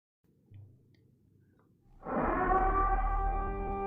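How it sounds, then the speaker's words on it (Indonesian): In the film The Purge: Anarchy, after faint background noise, a loud wailing siren signalling the end of the purge starts abruptly and holds a strong, sustained droning tone with a heavy low rumble. "Lalu terdengarlah suara sirine yang menandakan telah berakhirnya hari"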